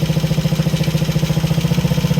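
A 1966 Sears Allstate Puch motorcycle engine runs steadily close by, a loud, even pulsing putter with no talk over it.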